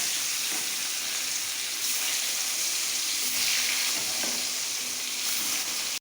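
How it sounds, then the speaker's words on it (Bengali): Salted, turmeric-rubbed koi fish crackle and sizzle in hot oil in a pan, a loud, steady frying hiss with small bursts of spattering that runs without a break and then cuts off. "এবার আমি কই মাছগুলোর মধ্যে লবণ আর হলুদ খুব ভালোভাবে মাখিয়ে নিয়ে খুব কড়া করে ভেজে নেব"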